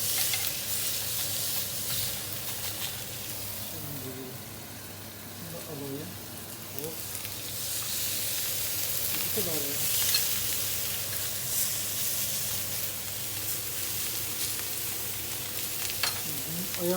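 Entrecote steak searing in a hot home-kitchen pan gives a steady, loud sizzling hiss that swells and settles throughout, with someone talking over it now and then.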